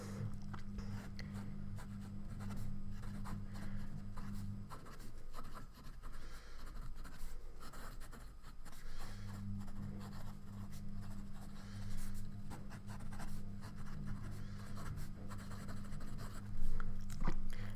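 A Platinum Century 3776 fountain pen with an ultra extra fine nib scratches across paper in close, continuous strokes with brief pauses, over a low steady hum.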